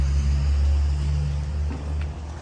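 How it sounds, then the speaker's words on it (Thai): A bus rumbles past close by, a deep steady engine drone that fades slightly toward the end. "รถบัส"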